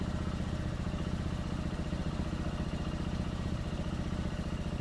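A CFMOTO CF150NK motorcycle idling while it warms up, a steady close-up rhythmic engine putter with light mechanical clatter, even in loudness throughout.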